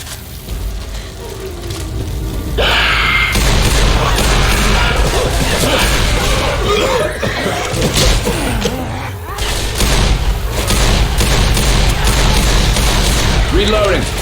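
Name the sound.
gunfire in the video game Left 4 Dead 2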